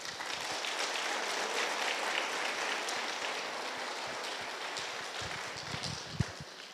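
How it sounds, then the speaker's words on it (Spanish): A church congregation applauds during a service, a dense, steady wash of many hands clapping at once that holds at an even level throughout, with no speech over it. "Dale palmas a Él."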